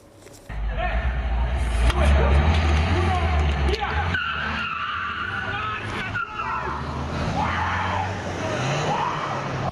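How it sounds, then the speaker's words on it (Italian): A BMW and a Ford Fiesta roar in an illegal street gymkhana on via Tre Venezia in San Liberale, with loud engine noise and tyres skidding on asphalt, and voices mixed in. "poi il rombo dei motori e delle ruote sull'asfalto di via Tre Venezia a San Liberale"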